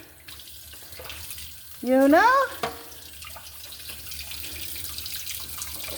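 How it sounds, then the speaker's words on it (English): Water from a tap pours briefly into a container to water a sprouting onion outdoors, a short rising gush lasting under a second, with a quiet background and someone speaking faintly. "Let me put some more water in here."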